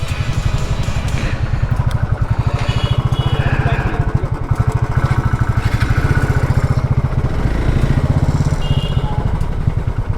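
A motorcycle engine idles close by at a roadside food stop near the temples of Khajuraho, a steady low rapid putter running continuously and loudly with no talk over it.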